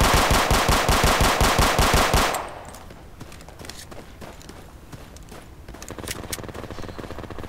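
Rapid automatic gunfire rattles loud and close in the military shooter game Project Reality, a fast steady burst over the first two seconds, then scattered fainter distant shots and clatter continue amid battlefield noise.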